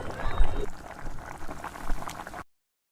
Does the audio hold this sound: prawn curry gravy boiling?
yes